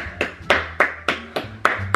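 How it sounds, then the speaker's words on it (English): A single person claps their hands about seven times in a room, the sharp close claps coming in an uneven rhythm with brief gaps between them. "Round of applause."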